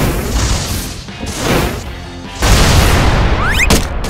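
Roblox fire ability blasts in Brookhaven RP hitting targets: heavy booming crashes, one after another, with a big impact near the middle and a bright zapping sweep near the end.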